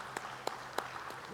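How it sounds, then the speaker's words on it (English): A few scattered, spaced-out hand claps from an audience after a panel discussion on financial services and customer experience, sparse and fairly distinct rather than a full round of applause. "a big round of applause for this wonderful panel session"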